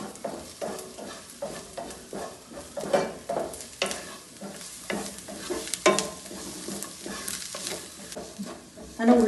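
Green chilli, ginger and crushed garlic sautéing in a pan: a steady close sizzle with frequent scraping stirs and light clinks of the spoon against metal, running throughout for a chicken liver roast.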